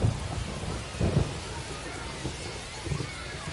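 Steady rain hiss with low rumbling thunder bursts during a rain-soaked ballpark game in the baseball video game MLB The Show, the rumbles swelling a few times over the constant downpour.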